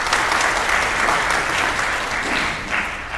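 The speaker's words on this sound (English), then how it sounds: "let's give them a nice round of applause" Steady round of applause from an audience at a university professor's forum session, dense clapping sustained evenly throughout at close range, with no voices over it.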